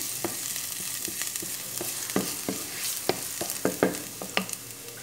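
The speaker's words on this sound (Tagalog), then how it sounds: "Lagyan na natin yung ating bawang. So, gisa-gisahin na natin siya guys." Garlic sautéing in a pan for ginataang gulay, a Filipino vegetable dish in coconut milk, with a steady low sizzle and a series of sharp scraping stirs and clinks of the utensil against the pan, no voices.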